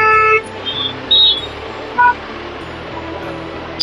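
Heavy road traffic near a college, with short car horn toots sounding three or four times over a rumbling mix of car and truck engines close by, no talking.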